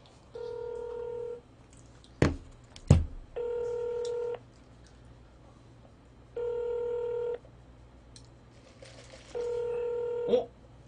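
Telephone dialing in the PC game Football Manager 2016 sounds as four steady electronic tone bursts, each about a second long, separated by pauses, with a couple of sharp clicks in between.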